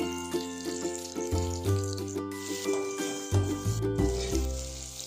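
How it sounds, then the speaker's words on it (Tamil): Onion and tomato frying in a pan for a South Indian vadacurry, with steady sizzling and occasional stirring scrapes; a melodic instrumental music track plays loudly over it throughout. "வெங்காயம், தக்காளி இது ரெண்டுத்தையும் ஆட் பண்ணி நல்லா ஃப்ரை பண்ணுங்க"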